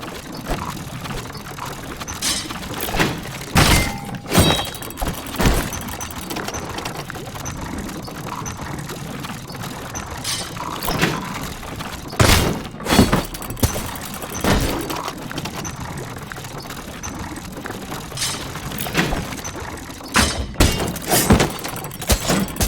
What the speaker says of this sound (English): His only hope was to parry with his trusty shield.